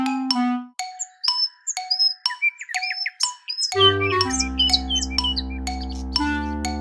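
Bright, quick bird-like chirps and tweets sparkle over a bouncy children's cartoon song with ringing chime notes, before a deeper bass-heavy musical section takes over.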